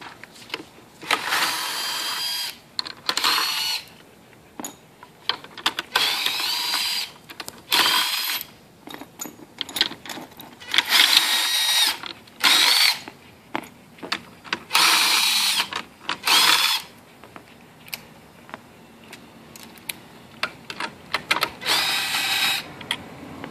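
A power drill removes bolts while a Prius hybrid battery is taken apart, with repeated loud whirring bursts of a few seconds each, separated by clanks and handling of metal parts.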